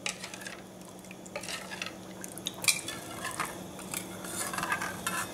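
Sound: stirring ginger chili gravy in a pot

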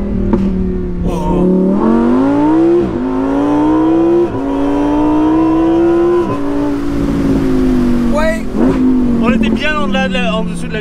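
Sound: Lamborghini Huracan EVO RWD Spyder engine revving and downshifting

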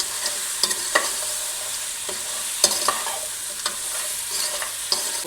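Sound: frying and stirring crabs with tomato

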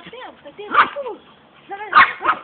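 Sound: dog barking

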